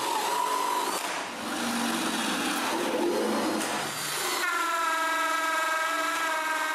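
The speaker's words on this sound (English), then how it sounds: "I drill a bunch of holes for the power cord." A power drill bores holes in a wooden shelf, a loud whining motor rising and falling in several bursts, then shifting to a steadier high-pitched spin near the end.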